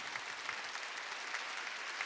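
A church congregation at a Wednesday worship service claps continuously, a quiet and somewhat distant wash of hands with no speech over it.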